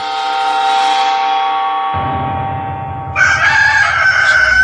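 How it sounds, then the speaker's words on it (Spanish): A rooster gives one long, loud, close crow that sustains and bends in pitch, followed by a rumbling low noise and a brighter tone toward the end. "En ese momento, un gallo cantó."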